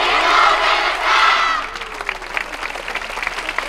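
An audience at the 2023 Osaka Mecha Happy festival cheers at a dance team's final performance, with swelling shouts giving way to steady, fairly loud crowd applause.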